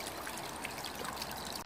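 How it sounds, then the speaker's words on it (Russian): Water trickles steadily from a pond's biofilter planted bed into the pond, a continuous close, moderately quiet splashing dribble with no talk. "Вот отсюда с биоплато у нас течет."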